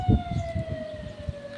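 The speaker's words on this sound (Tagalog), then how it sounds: "Ayun, bumbero nga. Bumbero siya." A fire truck siren wails as a steady, slowly falling tone passing nearby, with low rumbling road or wind noise pulsing underneath.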